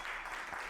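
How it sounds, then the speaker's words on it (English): Audience applause at a talk about sports accomplishments and a championship, a brief dense wash of clapping that holds steady, moderately distant. "Un fuerte aplauso, big applause for Lucia for her championship."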